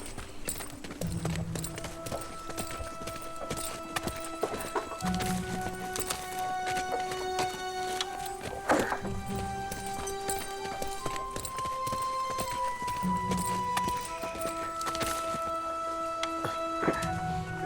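Horse hooves clip-clop in a steady walking rhythm on hard ground, heard in a dubbed period drama set in the Janissary era, mixed under sustained music with no talking.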